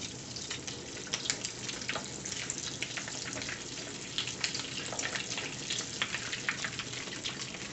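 Crab cakes frying in a pan of hot oil give a dense, steady sizzle with crackling pops scattered throughout, close and continuous, no one talking.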